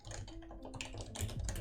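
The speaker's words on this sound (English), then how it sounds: "keyboard." Fast, close typing on a computer keyboard clatters through a short burst of dense clicks.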